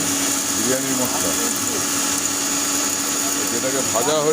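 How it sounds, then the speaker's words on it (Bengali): An electric kitchen grinder whirs continuously, powdering fried biryani spices, a steady close mechanical drone with a faint voice breaking in at moments. "সেই মশলাটা এখন গুঁড়ো করা হচ্ছে।"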